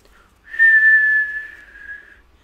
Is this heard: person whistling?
yes